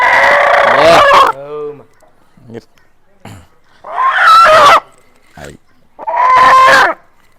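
Fighting roosters of the Namli colour type crow and squawk in three loud bursts, with agitated clucking and short cries between them, close by.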